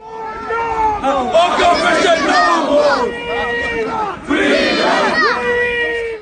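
A large crowd at a protest in Birmingham, UK, shouts and chants slogans loudly in unison, voices rising and falling in rhythmic bursts with a brief dip in the middle.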